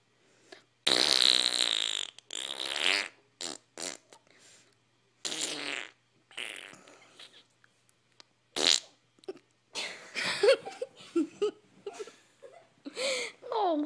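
A comedy skit full of loud, long, sputtering fart noises in repeated bursts, likely vocal imitations, close and dry with whimpering and laughter between them.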